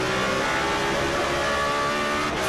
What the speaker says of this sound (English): the second of the two BMW M4s. Absolutely flat through that turn one, and this is a brilliant sounding car